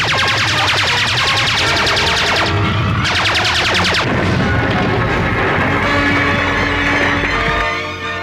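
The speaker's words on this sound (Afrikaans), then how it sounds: "Hulle skiet op ons." Spaceships attacking in an animated sci-fi battle let loose loud, rapid volleys of gunfire: two dense rattling bursts in the opening seconds, then a continuous booming, crashing wash of blasts that fades at the end.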